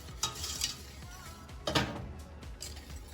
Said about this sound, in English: once the butter is almost melted, add a pinch of salt and then keep stirring it